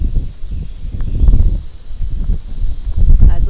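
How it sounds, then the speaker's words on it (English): Outdoor wind buffets the microphone on a golf course, a steady low rumble and rustle that rises and falls for the whole few seconds, loud and close. "Just a little windy."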